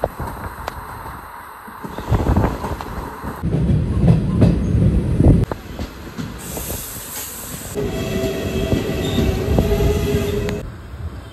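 A loud train, the Tiruchendur–Palakkad unreserved express, rumbles along the rails with clattering wheels and metallic squeals, its noise shifting in sections as cars pass close by.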